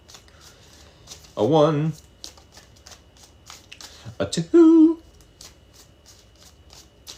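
Tarot cards shuffled by hand give light, repeated riffling clicks that run steadily through the clip, with a voice briefly counting aloud over them.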